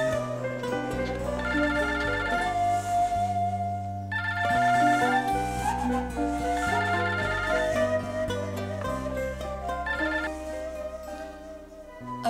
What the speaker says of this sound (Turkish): senin telefonun ya.